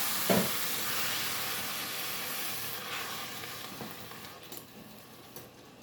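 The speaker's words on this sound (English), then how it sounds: "you're going to dump in this can of diced tomatoes." Canned diced tomatoes poured into a hot pan of fragrant aromatics for pasta sauce, a steady close sizzle and hiss with a brief splash at the start, easing slightly as the pan cools.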